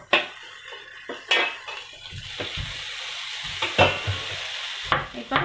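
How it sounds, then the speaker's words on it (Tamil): Onions and tomatoes land in cauliflower frying in a pan and get stirred, with a loud close sizzle broken by repeated sharp scrapes and clanks of a spatula against the metal. "இப்போ இந்த ஸ்டேஜில் வந்து நான் ஆனியன்ஸ் டொமேட்டோஸ் ஆட் பண்ண போகிறேன்."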